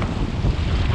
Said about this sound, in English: the breaking waves are getting ever so closer to me